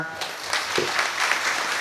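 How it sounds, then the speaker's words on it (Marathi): A crowd clapping steadily, a dense patter of applause filling the space at moderate loudness. "त्यांचंही सर्वांनी एकदा टाळ्या वाजून स्वागत करा"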